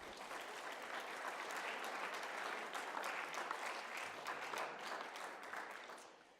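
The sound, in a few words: senate chamber applause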